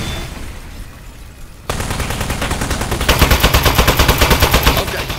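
Rapid automatic gunfire in the video game Aperture Desk Job, a loud sustained stream of shots that starts abruptly and quickens into a dense rhythmic rattle.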